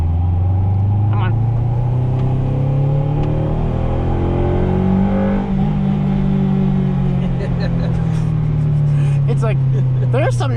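A 1995 Acura Integra GSR's exhaust drones loudly from inside the cabin, the engine pitch climbing and falling as it revs through gears.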